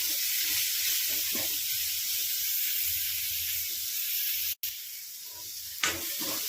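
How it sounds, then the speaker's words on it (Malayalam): Chopped tomato sizzles steadily in a hot pan for egg biryani, a constant frying hiss with soft stirring scrapes, a brief dropout near the end, then a spatula clack. "അരിഞ്ഞു വെച്ചിരിക്കുന്ന ഒരു തക്കാളിക്ക് ഇതൊക്കെ ചേർത്ത് നന്നായിട്ട് ഇളക്കിയെടുക്കാം"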